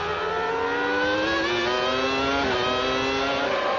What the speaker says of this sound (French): Écoutez le V10 Honda.